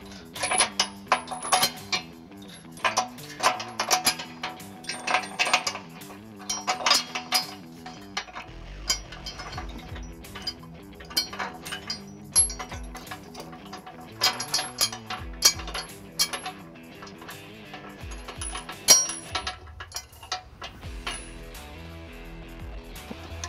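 Bolts with flat washers fed through the holes of a trailer hitch on a 2021-2024 Ford Bronco and secured with flange nuts, giving repeated close metallic clinks, rattles and scraping in irregular bursts.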